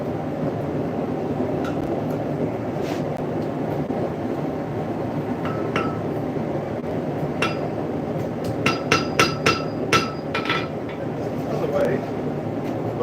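A blacksmith forges pure iron into horse-nail hooks and mini axes, with sharp metallic hammer strikes that come singly at first and then in a quick cluster, ringing over a steady loud rumble of background noise.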